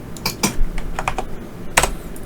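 Keystrokes on a computer keyboard while entering text in an Excel spreadsheet, a quick burst of clicks followed by a few scattered taps and one firm final press, close and clear with no talking.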